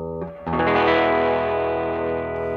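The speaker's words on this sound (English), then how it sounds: "Channel 2 is usually a distorted guitar sound." Distorted electric guitar on a two-channel amp's gain channel, a single thick sustained chord struck after a brief quieter lead-in, ringing loud and gritty before slowly fading.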